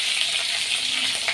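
Dried red chillies, curry leaves and asafoetida sizzle in hot oil for paruppu rasam, a dense, loud, continuous crackling hiss with no other sounds.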